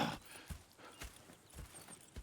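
Horse hooves clip-clop at a steady walking pace in the video game Red Dead Redemption 2, several soft thuds spaced about half a second apart, fairly close with light background ambience.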